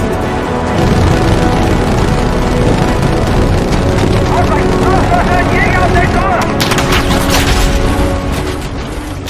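A World War II aircraft in Battlefield V roars with a loud, continuous engine drone mixed with rumbling battle noise and booms, while a voice talks over it.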